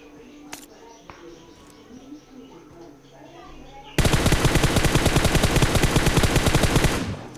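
Gunfire in the video game PUBG: after a few isolated single shots, a long rapid automatic burst erupts and hammers on for about three seconds, loud and dense, with faint talk in the quieter opening.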